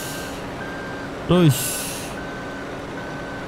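A dump truck in the video game Spintires: MudRunner backs up with a regular series of reversing beeps, joined by a short sharp air-brake hiss while someone briefly speaks.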